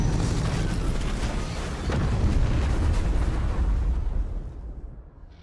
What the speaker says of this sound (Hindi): गोल्डन हॉर्न खाड़ी में एक छोटे टैंक का विस्फोट ट्रांस अटलांटिक टैंकर में हुआ है।